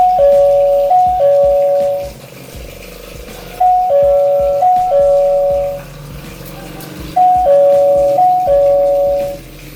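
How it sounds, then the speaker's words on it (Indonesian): The ARBIT smart wifi door lock's doorbell plays a loud electronic two-tone chime melody three times in a row, each ringing out and fading before the next press. "saya contohin ya gimana suara dia saat tombol bel ini ditekan"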